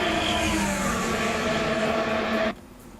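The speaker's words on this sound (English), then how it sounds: "when the cars are coming past." Formula 1 race cars roar past at the 2024 Japanese Grand Prix, a loud, sustained high engine wail that cuts off abruptly after about two and a half seconds, with no talk.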